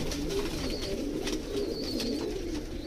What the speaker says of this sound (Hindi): देख लो कबूतर सारे